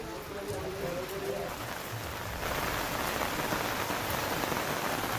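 Heavy rain pours steadily in the Uttarakhand mountains, a dense continuous hiss that swells louder partway through, with no voices over it.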